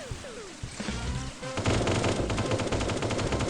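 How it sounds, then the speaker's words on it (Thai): Bursts of rapid automatic gunfire ring out in the cartoon-style mobile shooter HeyHa Royale, sparse at first and then a dense, sustained rattling volley that runs close and loud to the end. "ตั้งโลแล้วยิงรัวๆ"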